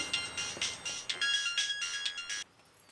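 A mobile phone ringtone plays a bright electronic melody in repeated short phrases at moderate volume, then cuts off abruptly. Nobody speaks.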